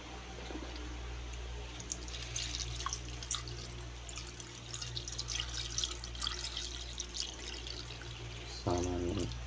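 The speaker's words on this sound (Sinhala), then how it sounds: "ඊට පස්සේ අපි වතුර එක කර ගන්නවා." Water poured into a pot of mutton leg soup being cooked, a soft continuous splashing and trickling close by, with faint kitchen clatter and a low hum underneath.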